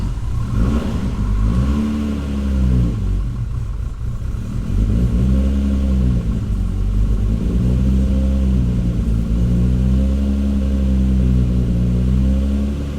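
A tuned Nissan Skyline R34, dyno-tuned and cold at 18 degrees, cranks and fires about a second in, then settles into a loud, near idle that surges and dips in a slow, uneven rhythm.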